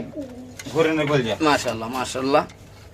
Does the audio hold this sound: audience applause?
no